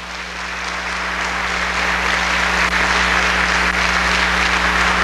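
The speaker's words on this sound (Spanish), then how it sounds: "¿No le das un aplauso al Señor?" Steady, dense applause from a large church congregation fills the whole stretch, loud and sustained without letting up.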